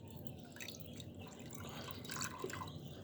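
Water being poured and dripping into a container, about a litre, mixed for young chickens at morning feeding time; a steady wet trickle with drips, close by, with no talking.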